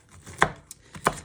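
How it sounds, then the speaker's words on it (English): Pecans chopped with a chef's knife on a board, a few crisp close knife strikes in a quick irregular rhythm with no talking. "just using the same chef's knife, just carefully run your knife through them"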